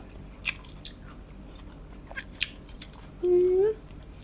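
A crispy giant pork meatball is bitten and chewed up close, with a few sharp crunches spread out over several seconds, then a short low hum from a voice near the end.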